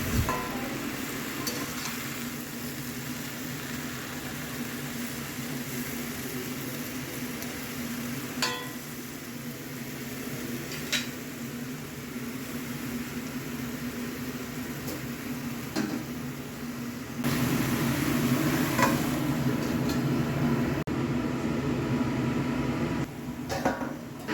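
Leafy greens stir-fried with spices in a pan give a soft, steady sizzle with occasional scrapes and clinks of a spatula, getting somewhat louder toward the end.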